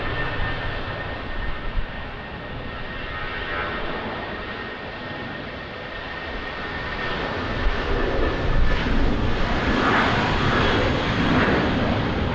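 A Ryanair airliner landing at Lisbon Airport in crosswind conditions, its engines giving a steady, broad roar at moderate distance that swells slightly toward the end, with no voices.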